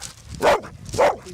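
Two loud barks from a pet dog, a female, about half a second apart, close by and alone with no talk, outdoors near gravel.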